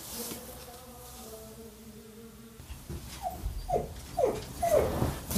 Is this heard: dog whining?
yes